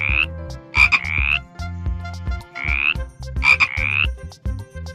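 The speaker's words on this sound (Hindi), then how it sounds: "ये देखो बच्चों फ्रॉग।" A frog croaks loudly and close by in a repeating pattern of rising, rasping calls over a low rhythmic throbbing.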